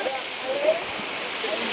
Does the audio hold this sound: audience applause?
no